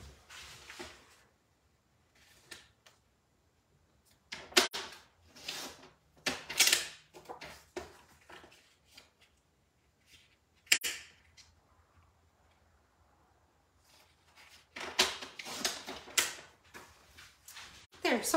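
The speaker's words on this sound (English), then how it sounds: "I just cut that tiny little bit off the edges so that it went all the way across" Paper edges being trimmed during card stamping: a series of short, close scraping and cutting strokes in bursts, separated by quiet pauses, with no talk over it.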